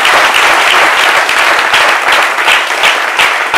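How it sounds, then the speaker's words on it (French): Vigorous audience applause, loud and dense, a continuous roar of many hands clapping at close range with no break for the whole stretch. "cela mérite de vigoureux applaudissements"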